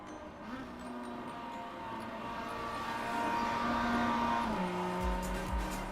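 A Mazda MX-5 race car in a racing video game at Rudskogen, its engine a steady droning whine that swells slightly, then drops in pitch as if shifting gear, heard close and alone without talk.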